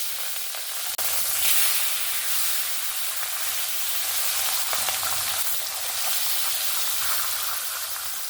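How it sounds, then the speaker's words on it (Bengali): Rohu fish pieces fry in hot oil, giving a dense, bright, steady crackling hiss that fills the whole stretch, with a sharp click near the start, close and loud. "এবার বাদ বাকি মাছগুলো আমি সেম ভাবে ভেজে নেব লাল লাল করে।"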